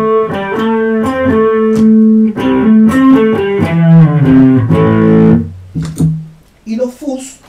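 Electric guitar played through an overdrive effect pedal, a lighter, cleaner-sounding drive than distortion: a few seconds of sustained overdriven chords and single notes, loud and close, then a brief pause and short picked notes.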